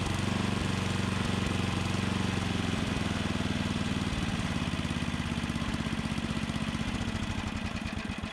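A Toro snowblower fitted with modified three-paddle impellers runs steadily nearby, a loud continuous engine chug with a rapid pulsing rattle throughout.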